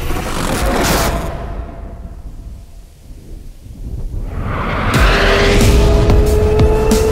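A Hyundai RN22e electric performance car corners hard, its tires squealing over a loud, continuous rush of motion that dips briefly midway and then swells again, with no voices.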